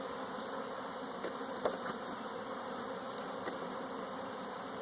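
Honey bees buzz steadily around an opened hive as the lid goes back on, a dense continuous hum with a few brief louder passes close by, no voices.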